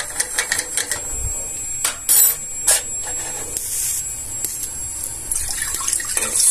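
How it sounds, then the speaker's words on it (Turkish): Water splashes and pours into a pot nearby, with uneven bursts, clinks and rubbing sounds mixed in. "suyumu koydum tencereme"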